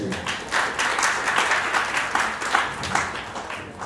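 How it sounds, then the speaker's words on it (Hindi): Sustained applause from an audience, a dense, steady patter of many hands clapping at moderate volume. "तो जिसने आपको यहाँ बुलाया है, उनके लिए भी जोरदार ताली होनी चाहिए।"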